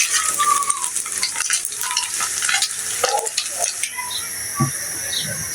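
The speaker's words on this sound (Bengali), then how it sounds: "এই যে এইভাবে করে সবগুলো চিকেন ভেজে নিয়েছি" Chicken pieces fry in oil, with a steady close sizzle, broken by the clink of a utensil stirring and scraping the pan.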